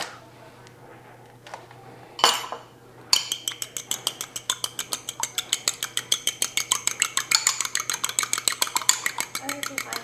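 Egg wash whisked in a bowl for sausage rolls, with a brisk, regular clinking of a utensil against the side of the dish, close and steady after a few scattered knocks, beneath occasional voices.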